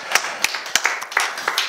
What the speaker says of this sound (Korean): 우리 박수 한번 해드리겠습니다.